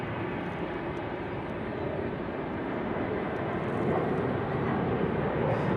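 An Airbus A321neo at Raleigh-Durham International Airport gives a steady, broad jet engine roar that holds constant and swells slightly toward the end, heard from a moderate distance with no speech.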